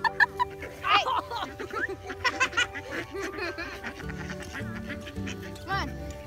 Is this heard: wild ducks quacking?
yes